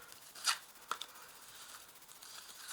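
Tarot cards laid out on a table, heard as two short crisp card slaps close by, followed by a quiet rustle, with no talking.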